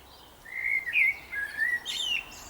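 A blackbird sings a clear, fluting song of several warbling phrases at moderate distance outdoors near a garden shed, with no voices over it.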